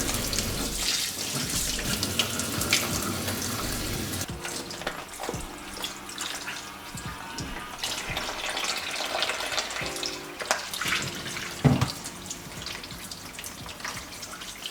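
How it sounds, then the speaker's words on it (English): Raw chicken for tandoori is rinsed under a running kitchen tap, water splashing and spattering steadily close by, with shifts in the flow and a few sharp knocks from handling in the sink. "I'm just going to go ahead and wash it thoroughly"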